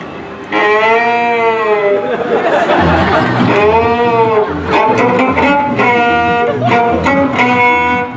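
A man imitates a cow with long, loud, wavering lowing calls, several in a row, drawn out and bleating, during a live hillbilly comedy show at an amusement park, with crowd chatter and some laughter around him.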